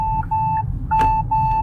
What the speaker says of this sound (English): the mirror will light up and it will send a beeping noise